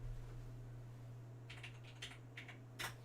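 Several crisp keystrokes on a vintage computer keyboard click faintly over a constant low electrical hum, landing in small irregular clusters.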